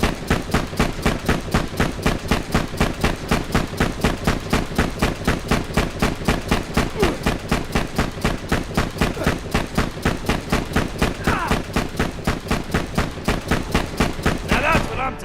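Sustained rapid automatic gunfire from a gun in Borderlands 2, fired as aimed bursts in a long, steady, loud stream of shots with no break, a few faint background sounds near the end.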